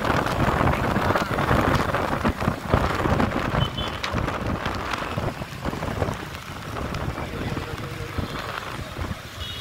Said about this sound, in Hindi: बारिश बारिश बारिश, घर पे जाते जाते गिल्ला हो जाऊंगा